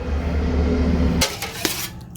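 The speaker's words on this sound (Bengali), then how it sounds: "হয়ে গেছে এবার আমি কড়াইটা বসিয়ে দেব" A metal wok (kadai) is set down on a kitchen stove, one sharp clank after a low steady hum, followed by a few light metallic rattles.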